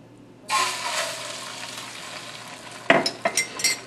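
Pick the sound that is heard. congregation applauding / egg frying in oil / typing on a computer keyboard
egg frying in oil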